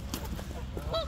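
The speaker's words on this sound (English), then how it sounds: "get ready for a goose attack" Geese honk near a dog walk by a bridge construction site, a few short nasal calls rising out of steady outdoor background noise.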